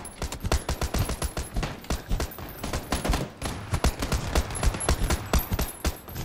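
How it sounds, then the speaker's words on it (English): Sustained machine gun fire in PUBG: rapid, evenly spaced loud shots rattle continuously for several seconds, close and alone, with barely any talk. "Why is this machine gun on the mic?"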